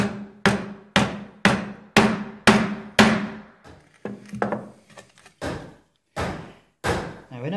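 Firm, rhythmic mallet blows strike a chisel chopping a mortise in wood, about a dozen sharp close knocks, quickly repeated at first and then more spaced out.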